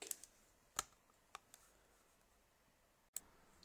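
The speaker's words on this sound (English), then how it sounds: "while I take some time to type all of this data into the computer" Sparse, quiet keystrokes on a computer keyboard as measurement data is entered, a handful of isolated clicks spaced irregularly against a faint room hiss.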